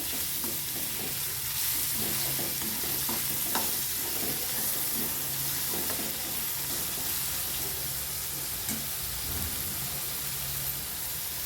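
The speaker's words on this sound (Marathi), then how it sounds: "आणि चांगला हलवून घ्यायचे परत आपल्याला कांदा छान आपला मऊ झाला पाहिजे" Onion frying in a pan with a steady, dense sizzle throughout while a spatula stirs with intermittent scraping clinks, close and moderately loud, no voices.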